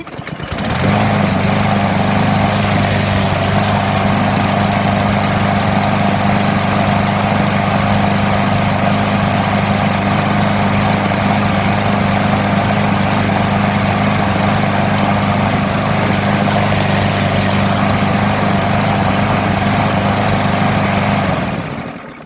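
A Bolens 21-inch push lawn mower with a 140cc engine runs steadily after a carburetor clean, a loud, continuous close-up drone that holds without a break, with no talk over it.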